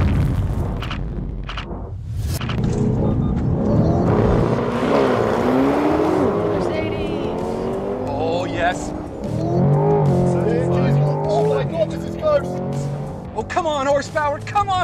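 Nissan GT-R and Corvette racing side by side at full throttle, with engines rising through the gears in long climbing revs and repeated shifts, under excited talking.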